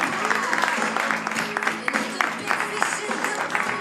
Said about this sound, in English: Keith Manby getting an applause.